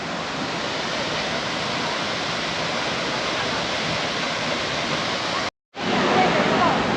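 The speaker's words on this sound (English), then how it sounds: "we've come to this beautiful waterfalls here." Steady, loud roar of a waterfall at an adventure spot, continuous broadband rushing water filling the whole stretch with one brief cut near the end, no voices.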